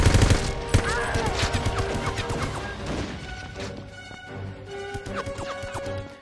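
Gunfire rattles through a shooter arena in 007: Everything or Nothing, dense overlapping bursts and single cracks loud and close, with game music and impact crashes layered beneath.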